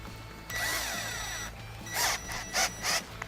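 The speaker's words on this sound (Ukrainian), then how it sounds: "я зараз ще пророблю отвори саме сверлом, не ножицями" A drill bit boring holes into a homemade fishing feeder, heard as a close, whining spin-up of the drill lasting about a second, then several short, sharper bursts of drilling with brief pauses between them.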